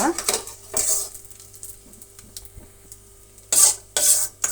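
Raisins and cashews frying in half a spoon of ghee in a pan, heard as a low sizzle under bursts of spoon-scraping and stirring, with several loud metallic scrapes near the end and no talking.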